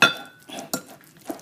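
Lasagne filling is blended in a large bowl, with a utensil knocking and scraping against the side. A sharp clink opens the sequence and a few softer knocks follow, close up and with no voices.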